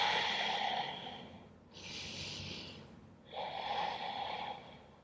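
Deep breathing during a yoga stretch for cyclists: a long audible inhale or exhale, a brief pause, then another full breath, close and clear with no talking.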